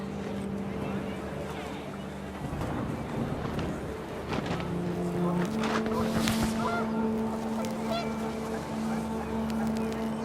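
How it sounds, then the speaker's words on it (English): Geese honk and cackle in What Remains of Edith Finch amid gusting wind, with steady musical tones running underneath and a voice speaking over part of it. "The wind picked up, and panicked geese appeared and quickly went."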